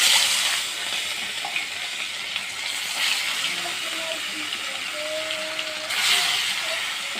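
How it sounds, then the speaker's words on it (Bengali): Prawn fritters sizzle in oil on low heat after marinating for eight hours, giving a steady, soft frying hiss with faint high squeaks throughout and no talking. "চিংড়ি মাছটা ভালো করে মাখানোর পর 8 ঘন্টা পরে কিন্তু বড়াটা ভাজছি।"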